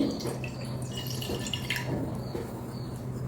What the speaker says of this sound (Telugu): ఒక కడాయి పెట్టుకోండి అందులో కొంచెం నీళ్లు పోసుకోండి